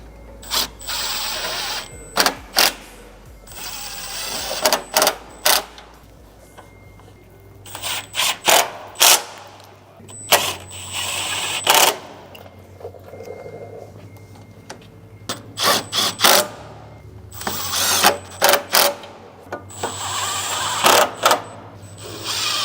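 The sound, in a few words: ratchet working on crash bar bolts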